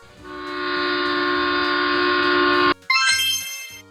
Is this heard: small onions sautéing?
no